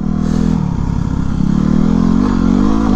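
A Ducati XDiavel motorcycle engine runs continuously during a ride, a loud close rumble with a low, steady drone and slight changes in revs.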